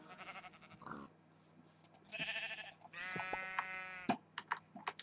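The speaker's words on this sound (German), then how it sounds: "Hier sind Schafe." Sheep in Minecraft bleat twice, in drawn-out wavering calls at moderate volume, with soft clicking, quick clatter and quiet background noise around them.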